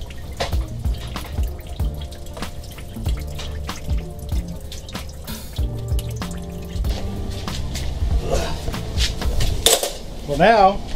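Fuel draining and dripping out of a 1988 Mazda RX7 FC3S fuel tank, a run of irregular close drips and splatters against a trickle, with a voice speaking briefly toward the end.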